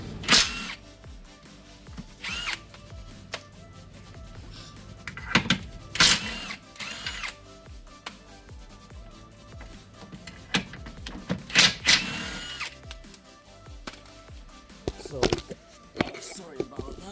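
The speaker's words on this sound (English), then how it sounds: "we are going to use our 70mm socket right there with the rigid impact wrench" Ridgid impact wrench fitted with a 70mm socket removing nuts from a 2007 Toyota Sienna control arm, several short loud rattling bursts separated by pauses, with clanks of tools and someone talking between them.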